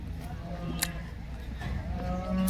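A cow at a rural cattle market lowing in a drawn-out moo near the end, over a busy background of crowd murmur and a couple of sharp clacks.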